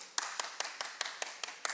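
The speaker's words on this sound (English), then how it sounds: "You can clap for that." Sparse, evenly spaced handclaps at a church young adults service, about eight crisp claps in a steady rhythm, fairly faint and with no talk.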